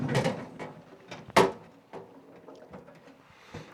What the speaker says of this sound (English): slightly leave these drawers ajar, something like this, close the top, and now the drawers are not locked.